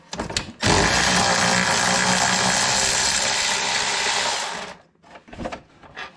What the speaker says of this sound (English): I've got a cordless ratcheting wrench, so I'm just gonna use that.